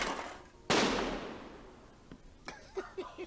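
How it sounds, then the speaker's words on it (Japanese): A single loud firework blast bursts out, then a long decaying rumble trails off, followed by a few faint pops and knocks while the room is otherwise quiet. "今の花火か本当に。"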